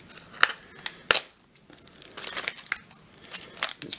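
Tough protective plastic is peeled and torn away from a circuit board kit's packaging, giving sharp crackling rips and crinkles in uneven bursts, close and fairly quiet.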